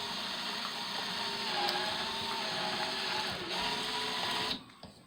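An electric drill driving a pea sheller while shelling purple hull peas, a steady whirring mechanical hum with a faint rattle that runs evenly and then cuts off near the end, with no talking.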